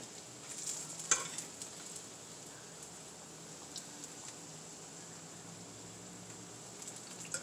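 Shrimp frying in a pan for tacos, a faint steady sizzle running throughout with a few small clicks and taps of stirring near the start, no talking.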